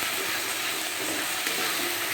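Steamed potatoes and vegetables being stirred in a sizzling frying pan, a steady dense crackle with scraping stir sounds throughout, close and fairly loud.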